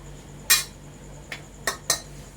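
A pan of leftover larb and minced pork is being stir-fried. Four sharp metallic clinks of a utensil striking the pan ring out at irregular intervals over a faint background hum.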